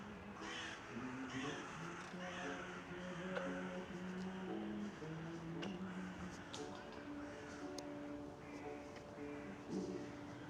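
Crows cawing repeatedly outdoors over a city during air raids, with harsh calls scattered throughout at moderate distance over a steady background hum and faint ambient noise.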